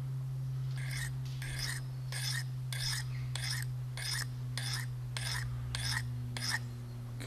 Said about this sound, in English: So what we simply do is we'll start by the rough side and then go and sharpen it a little bit.